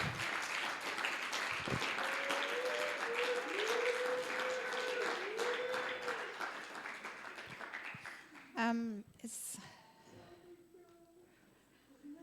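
A church audience applauds and cheers at a sermon gathering, dense sustained clapping with some whoops that tapers off after several seconds as people begin talking.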